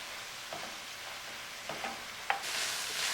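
Ground hamburger frying in a pan with celery and purple onion, stirred with a spoon: a steady close sizzle broken by light scraping strokes, with no voices.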